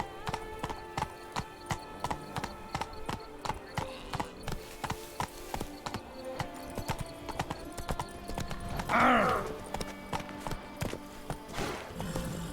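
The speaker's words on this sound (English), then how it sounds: "Stupid horse." Horse hooves clop in a quick, even rhythm in the video game The Witcher 3: Wild Hunt, Blood and Wine expansion, steady and close throughout, with a brief neigh partway through and no talking.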